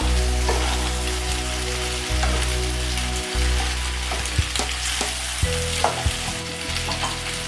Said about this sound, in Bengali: ডিমটাতে ভেজে নেওয়ার পর এবার আমি পাস্তাগুলো এর মধ্যে দেবো। পাস্তা দিয়ে একবার নেড়ে নেব।